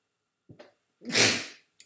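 A single sharp sneeze, preceded by a quick intake of breath, loud and close, with a brief small sound after it and otherwise near silence.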